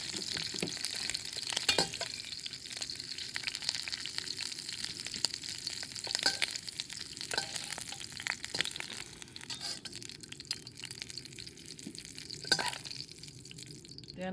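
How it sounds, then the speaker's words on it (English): Shrimp and rice noodles stir-frying in a hot pan, a steady close sizzle with scraping stirs and occasional clinks running continuously throughout, no talking. "Then I stir fry the onion first."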